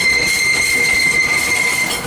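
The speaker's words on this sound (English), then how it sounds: "This train's returning to probably its launching area for its afternoon runs." A deadheading passenger train with no riders aboard rolls past near Parque de la Paz in South San José, Costa Rica, its wheels squealing in a steady high whine over a rumbling, close, loud drone throughout.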